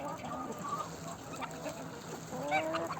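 A rooster and hens cluck on a small farmyard where geese and chickens are kept together, a few short clucks rising near the end over faint background noise.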